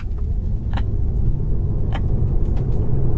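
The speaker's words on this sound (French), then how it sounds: "Donc pour commencer, on va se faire une petite accélération." A 2021 Tesla Model 3 electric car's low, steady rumble builds continuously with little engine roar, a smooth acceleration hum close by, with a couple of brief clicks on top.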